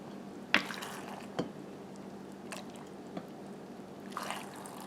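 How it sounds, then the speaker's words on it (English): Hot bean cooking liquid is ladled into jars of beans, with a few soft splashes and drips spaced over several seconds against a quiet room background. "So now we're going to take our ladle and we're going to put this hot liquid"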